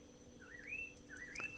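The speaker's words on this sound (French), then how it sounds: "Tu entends les oiseaux?" Birds sing in the early morning, a faint pair of rising whistled phrases heard at a distance over a low steady background hum, with no voices.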